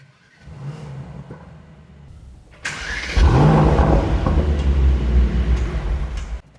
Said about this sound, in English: what I'm going to give you is some nice AMG Emotion Start and show you what the car sounds like.